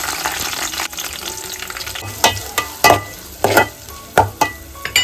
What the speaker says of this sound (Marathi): कांदा मस्त परतवून घेतलेला आहे.